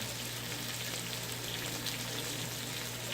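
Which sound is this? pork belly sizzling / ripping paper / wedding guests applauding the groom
pork belly sizzling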